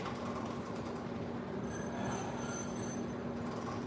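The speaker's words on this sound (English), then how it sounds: "Yeah, we're going to take the train." A train rumbles steadily close by, with a continuous broadband roar, a faint steady hum and brief high squeals of wheels on rail partway through, heard alone with no talk.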